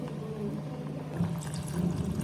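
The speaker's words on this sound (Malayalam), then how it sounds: "കുറച്ചും കൂടെ വെള്ളം ആഡ് ചെയ്യാം." Water pours into a pot of fish curry, a short, close, soft splashing stream over a low bubbling base, with no talk.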